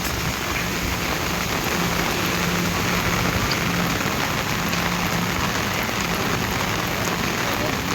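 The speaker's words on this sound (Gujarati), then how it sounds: "ફૂલ વરસાદ" Heavy rain pours down continuously, a dense, loud and even hiss of drops on surfaces that holds steady without a break from start to finish.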